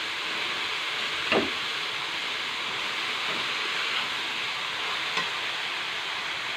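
Dill leaf vegetable dish frying in a pan, a steady sizzle throughout with a few soft scrapes of a spoon stirring it, no talking.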